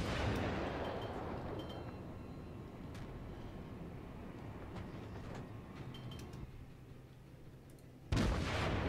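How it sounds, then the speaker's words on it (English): Naval gunfire and explosions in World of Warships, with a Hashidate cruiser: a steady, dense rumbling roar of battle with scattered faint cracks, then a sudden louder burst near the end. "I'm gonna start firing out that way. Give me some good hits."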